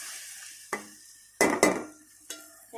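Chilies and spices cook down in a pan with a little water, a soft simmering hiss broken by several sharp scraping stirs and clinks, close up with no talking.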